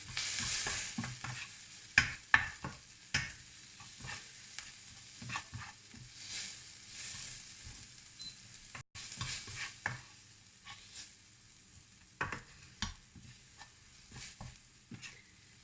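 Quiche filling for mini tuna and goat cheese quiches being stirred in a bowl, with soft, irregular scraping and tapping strokes at close range, fairly quiet and spaced unevenly.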